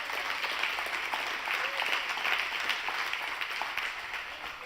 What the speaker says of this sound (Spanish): Den un aplauso a Dios si lo entiende.